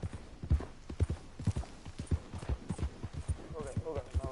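Horse hooves clip-clopping in Red Dead Redemption 2: a steady, close walking rhythm of hollow hoof strikes, with a snort or faint whinny toward the end.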